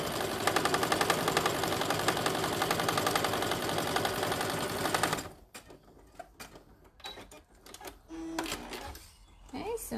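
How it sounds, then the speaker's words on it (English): Sewing machine stitching the inner side of a tote bag strap, a fast steady mechanical chatter for about five seconds, then it stops and a person talks over quieter handling noises. "I've been sewing the inner side of the strap first"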